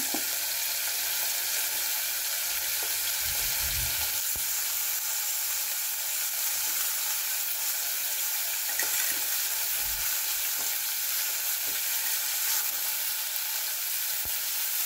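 Squash pieces sizzle steadily in hot oil in a pan while cooking ginataang tilapia, a dense continuous crackle with occasional stirring knocks and scrapes, close and fairly loud throughout with no talking.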